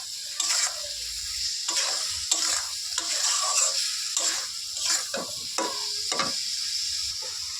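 A paste of onion and green chili with cumin and coriander powder sautés in a pan for a parshe fish curry, with repeated close scraping stir strokes over a soft, steady sizzle and no talking.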